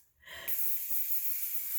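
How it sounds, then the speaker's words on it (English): An aerosol can sprays hair spray down onto bangs at home. After a short quiet breath, one close, steady hiss starts abruptly and runs on without a break until the end. "I'm gonna spray it downward."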